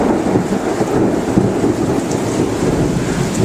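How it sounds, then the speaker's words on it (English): A severe thunderstorm roars with steady heavy rain and a continuous low rumble of thunder, loud and close throughout, with no voices. "Getting some really bad lightning right now."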